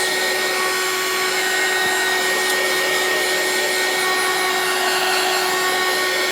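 A hair dryer blows steadily to dry a sheet of watercolour paper, a constant close whirring roar holding at the same level throughout with no talk.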